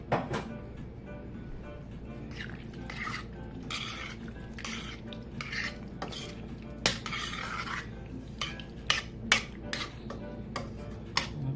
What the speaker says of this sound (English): And then I'm going to stir that in as well.